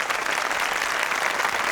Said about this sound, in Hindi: क्या तालियां पे तालियां बजाए जा रहे हैं?